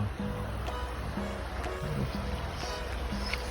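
A steady, broadband rush of a river flowing in Verkhovyna, Ukraine fills the scene, constant and moderately loud, with faint murmurs and small splashes on top.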